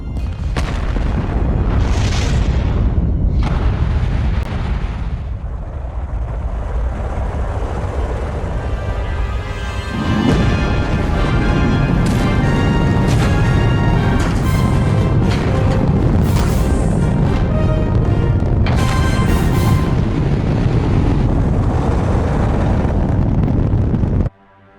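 Apollo rocket engines igniting at launch, a huge, continuous roaring rumble with crackling bursts, swelling louder partway through and cutting off abruptly at the end.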